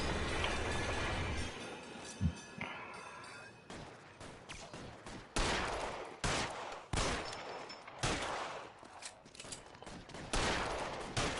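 Sharp pistol gunfire in the video game L.A. Noire, a burst of cracking shots in uneven bursts, fairly loud against a noisy background.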